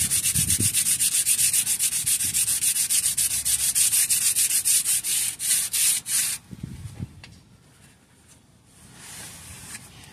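Steady rhythmic scraping of fine sandpaper rubbing back and forth, close and loud, then pausing into quieter, intermittent strokes.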